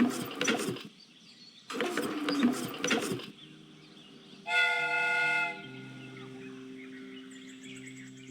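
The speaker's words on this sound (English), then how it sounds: "The steam whistle is ready to be used." A steam whistle on a replica train in a Sherlock Holmes video game gives one loud, sustained, harmonically rich blast lasting about a second. It follows two bursts of hissing, clattering noise and leaves a lingering low mechanical hum.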